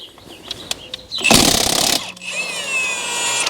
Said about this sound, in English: We're gonna go ahead and pop these lug nuts off.